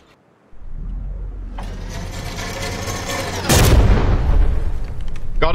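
Explosions in the naval combat video game From the Depths crash out as booming blasts followed by rumbling, crackling debris, one heavy blast hitting hard partway through.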